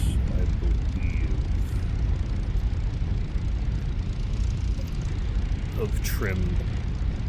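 A simulated P-51 Mustang propeller engine in the DCS flight game runs as a loud, steady, droning rumble throughout, with someone talking over it.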